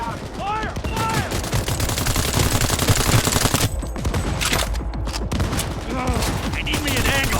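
Rapid automatic gunfire erupts in the video game Cyberpunk 2077, dense bursts of shots in a sustained fusillade, loud and close, with voices shouting over the battle.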